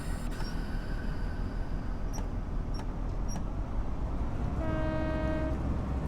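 In a train simulator set on the Thames Valley branch lines, a train's whistle gives one clear, steady blast near the end, over a constant rumble of the moving train.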